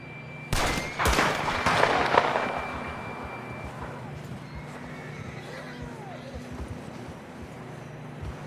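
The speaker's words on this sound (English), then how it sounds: "John was riding that horse when we left Blackwater." A horse in the Western video game Red Dead Redemption 2 gives a sharp, loud burst near the start, followed by a drawn-out neigh that slowly fades into quieter background sounds.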